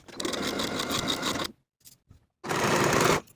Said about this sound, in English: Sew this underarm seam with a 5/8 inch seam allowance